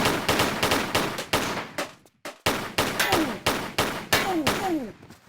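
Rapid repeated gunshots from Lara's gun in Tomb Raider III, at Lara's home, fire in a steady string of loud, sharp cracks with brief decays, pausing once before resuming, with faint descending whistling tones over the later shots.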